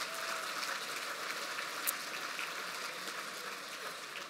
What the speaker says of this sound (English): So a round of applause, please, for Gwen Crimmins and her guests